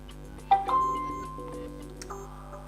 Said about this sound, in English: the robot just played a chime, which means that it's connecting